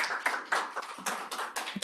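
An audience at an academic conference claps for a short burst of about two seconds, giving quick, dense hand claps that sound fairly faint and distant.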